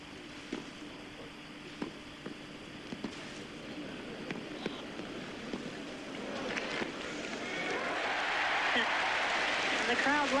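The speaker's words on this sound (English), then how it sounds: "And the crowd loves it" Applause from the crowd at the 1988 French Open women's final, faint at first, then building into a broad, sustained wash over the final few seconds, with a commentator's voice barely audible.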